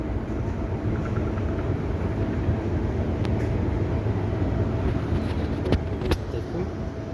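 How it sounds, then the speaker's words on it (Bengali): Riyadh metro rail train in a station, a steady loud rumble of the train and station noise throughout, with faint crowd voices in the background and a few brief metallic clicks. "metro rail"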